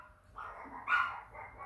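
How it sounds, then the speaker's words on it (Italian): A dog gives a short bark, followed by a louder, sharper bark close by, in a quiet indoor room during a crochet session. "Sentitele come abbaiano, tutte e due, Gaia e Luna."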